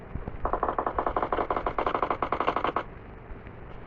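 A rapid burst of automatic gunfire from PUBG Mobile rattles for about two seconds as a steady rhythmic string of close, sharp shots, then stops abruptly.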